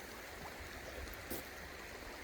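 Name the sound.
water flowing through a river sluice at the creek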